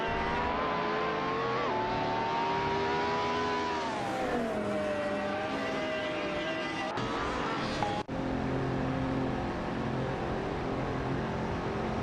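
Race cars in an AI racing video game, engines droning and shifting pitch as several cars run close together, with a sharp break near the end, steady and loud with no talk.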